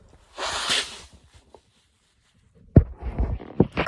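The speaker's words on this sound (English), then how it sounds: "Here, let me blow my nose real quick." A person with allergies gives one short, breathy nose blow up close, followed by a moment of quiet and then some soft rustling and handling noises.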